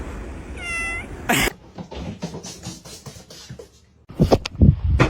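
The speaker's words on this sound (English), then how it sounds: "Look at this little kitten." A small kitten gives one short, high meow near the start, followed by soft scuffling, scratching and bumping noises, with a louder flurry of rustling toward the end.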